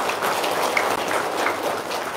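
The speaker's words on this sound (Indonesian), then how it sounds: "kita tepuk tangan dulu dong yang meriah" Brief, dense clapping from a crowd, steady and moderately loud for a couple of seconds.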